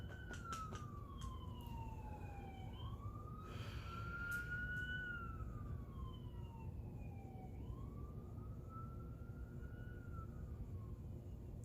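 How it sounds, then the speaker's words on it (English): A distant ambulance siren wails outside, its pitch sweeping up and down through several slow cycles, faint against a low background rumble. "I feel like there's always someone dying where I live, because there's always an ambulance."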